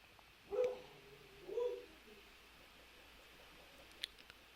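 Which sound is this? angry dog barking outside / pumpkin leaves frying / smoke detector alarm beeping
angry dog barking outside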